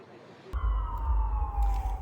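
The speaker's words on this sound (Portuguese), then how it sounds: "A sirene toca." A siren in Washington sounds loud and close, a sustained steady wail that starts abruptly and holds alone without voices.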